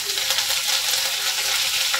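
Curry leaves dropped into hot oil for sev upma give a steady, dense sizzle and crackle throughout, close and fairly loud, with no voices.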